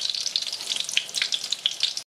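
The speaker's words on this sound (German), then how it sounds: "Unseren Camembert werden wir jetzt rundum goldbraun frittieren" Camembert deep-frying in hot oil in a pan, giving a steady close sizzle with dense crackling pops and bursts for about two seconds before it cuts off abruptly.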